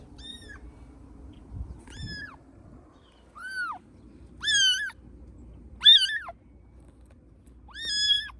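A cat named Rose meows loudly and insistently, six separate drawn-out calls spaced a second or so apart, close by over a faint low background rumble.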